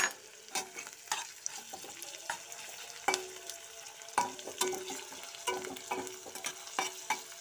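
Garlic paste fries in a pan for a vegetarian ridge gourd dish, a soft sizzle broken by frequent sharp scrapes and clinks of a spoon stirring against the pan, close and unaccompanied by talk.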